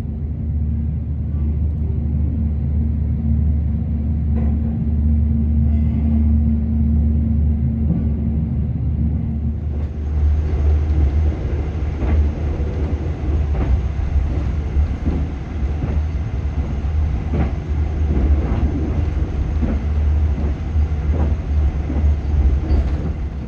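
Argo Sindoro executive train in motion, heard from inside the carriage: a steady low rumble and rattling wheel noise that runs unbroken throughout, with a brighter hiss joining about halfway through.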